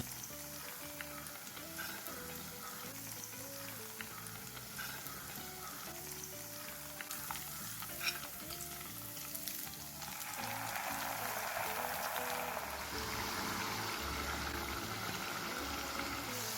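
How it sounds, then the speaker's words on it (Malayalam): Chicken pieces frying in hot oil, a second batch going in; steady loud sizzling throughout, growing fuller and more intense partway through as more pieces hit the oil, with no talking. "എന്നിട്ട് ഇനി നമുക്ക് ഈ 2ാമത്തെ ബാച്ച് ഇതിലേക്ക് ഇട്ടിട്ട് ഫ്രൈ ചെയ്തെടുക്കാം."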